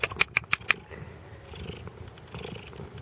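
A small cat purrs softly and steadily close up, preceded by a quick series of sharp clicks at the start, with no voices over it.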